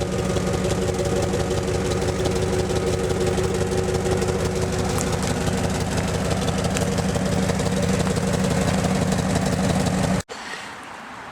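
A Jeep ZJ with a 5.9 V8 idles on its factory exhaust, a steady, loud low rumble with a fast even pulse lasting about ten seconds before cutting off abruptly to quiet background.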